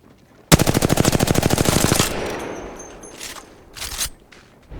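A video game gun firing one fast automatic burst of about a second and a half, loud and rapid, followed by a few fainter in-game sounds.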